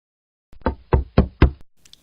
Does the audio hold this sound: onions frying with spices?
no